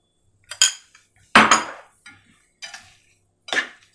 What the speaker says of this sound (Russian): Как мы перемешали с корицей, сахар, яблоко.